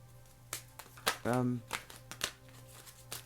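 Tarot cards shuffled by hand, a run of crisp, papery riffles and taps, close and fairly soft, with a short voiced utterance partway through.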